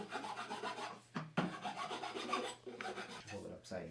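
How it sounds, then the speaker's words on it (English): Fine sandpaper worked over the edges of a mountain bike fork, a close, continuous rasping rub in steady strokes with a brief pause partway through. "I'll use a little fine sandpaper"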